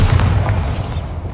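Bombarda blasting spell explosion in Hogwarts Legacy on PS5, a single loud, close boom with a heavy low rumble that fades over about a second.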